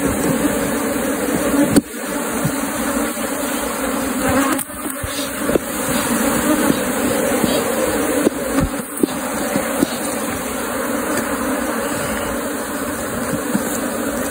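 Honey bees (Apis) buzz loudly at an opened hive box, a dense, steady drone close by, with a few brief knocks and clicks from handling the box.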